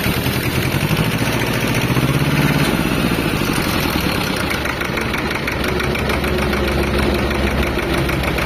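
A new tractor engine runs at a steady idle close by, a continuous loud mechanical chug with a fine knocking rhythm and no pauses, heard alone without talk.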